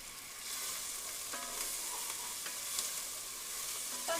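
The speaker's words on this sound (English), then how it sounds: "So I'm just sweating the onions off." Onions sweating in a pan for an oxtail dish give a steady, soft sizzle with occasional brief stirring scrapes, close by and fairly quiet, with no talking.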